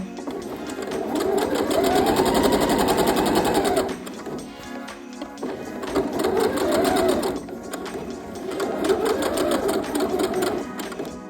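A sewing machine back-stitches a denim dress in three sustained whirring runs, loud and close, with a brief pause near the four-second mark between bursts.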